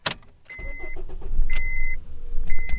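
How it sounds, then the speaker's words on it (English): A 2010 Honda Accord being started with a key: a short electronic chime pattern repeats over a rumbling low engine noise that rises as the motor catches, with sharp clicks in between, heard close up inside the car. "insert a working key and turn the engine on."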